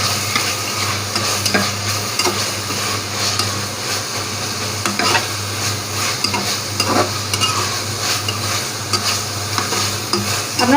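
Spice paste for beef curry frying in a little oil, with a steady loud sizzle and repeated stirring scrapes of a spoon against the pan running throughout.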